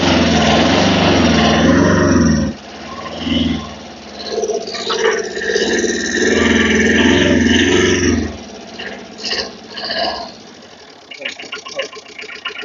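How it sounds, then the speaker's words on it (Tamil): A Tata Magic mini truck's small diesel engine chugs loudly up close after starting, then drops and rattles unevenly as someone talks over it and the engine noise fades. "வண்டி ஸ்டார்ட் ஆயிடுச்சு"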